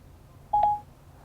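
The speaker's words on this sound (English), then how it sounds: "press and hold the talk button on the steering wheel until you hear a tone" Siri activation tone through Apple CarPlay in a 2017 Audi Q7, a single short bright electronic chime rising briefly over quiet cabin hum.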